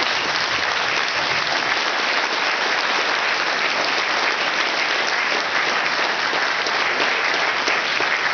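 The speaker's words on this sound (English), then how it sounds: "And just a big round of applause to everybody." An audience applauds after a flute band performance at a Saint Patrick's event, a dense, steady, loud clapping that carries without letup.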